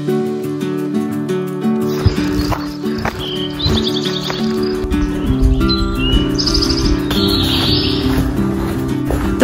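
Birds chirp and tweet along the Appalachian Trail in North Carolina in warm weather, bright repeated calls over a busy, loud backdrop of music-like rhythmic sound throughout.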